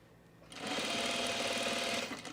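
A sewing machine stitches blazer fabric backed with weft interfacing, starting after a brief pause and then running in a steady, close, fast whirring burst of about a second and a half.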